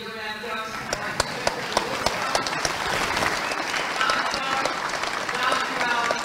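Staff applauding at a Rotary vocational award ceremony, steady clapping from a group in a hall, with a few sharper isolated claps early and talk mixed in.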